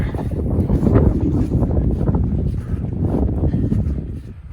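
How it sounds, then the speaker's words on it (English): Steady, heavy wind roar on a bare mountaintop in rainy fog buffets the microphone, low and rumbling with gusty swells, continuous throughout and fairly loud. "Walk across this bare mountaintop in this windy, rainy fog."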